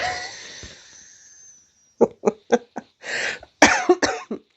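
A string of harsh coughs, close and loud, comes in quick bursts after a breathy exhale.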